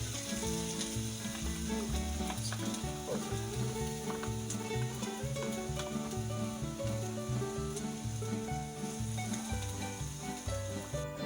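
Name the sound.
onion frying in hot oil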